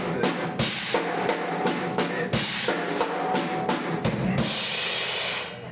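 Drum kit playing a slow fill, with a series of separate cymbal crashes and drum hits spaced out unevenly, ending in a washing cymbal ring.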